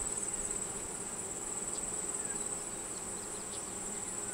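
Honey bees in an opened 10 frame hive hum in a steady, even drone. A high whine runs constantly over the buzz, with no voices.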